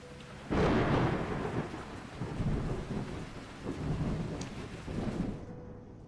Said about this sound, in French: une grosse tempête est arrivée